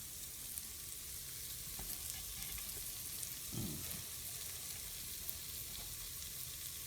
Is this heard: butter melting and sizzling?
yes